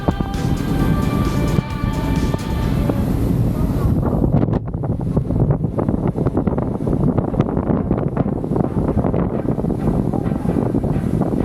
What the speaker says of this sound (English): the waves crashing upon the rocks and the sea spray coming up because of the windy conditions